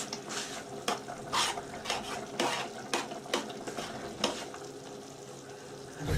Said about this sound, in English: It shouldn't be boiling away and it's spitting at me.